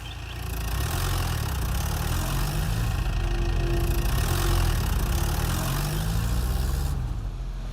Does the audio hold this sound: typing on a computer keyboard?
no